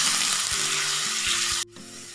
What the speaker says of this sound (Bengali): সামান্য নুন দিয়ে আলুগুলোকে কড়া করে ভেজে নেব।